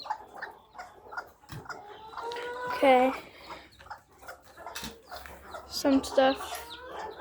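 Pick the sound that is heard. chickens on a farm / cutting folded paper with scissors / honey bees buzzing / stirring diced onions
chickens on a farm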